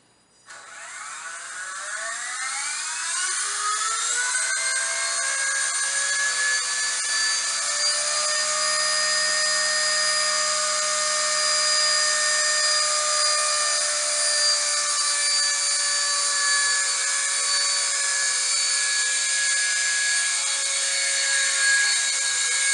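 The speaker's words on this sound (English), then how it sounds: "So just watch the helicopter." A small remote-control helicopter's rotor whine spins up quickly and holds a high, steady buzzing pitch with shifting harmonics, close and continuous.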